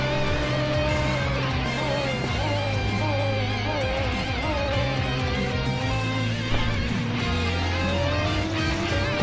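Race car engine with a very short gear ratio in a racing video game: several cars wail at high revs, with rapid upshifts and pitch steps overlapping continuously, loud and close with no pause.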